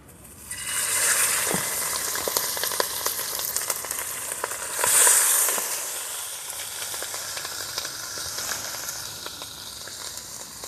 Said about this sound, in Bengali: এবারে আমি ভেজে নেব ভালো করে।